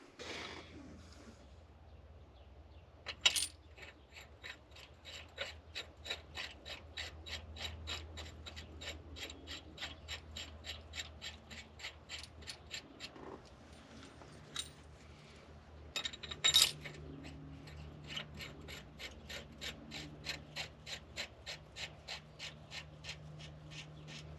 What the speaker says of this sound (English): So now I'm going to put the rest of those bolts in for these, and we'll draw the rest of these down.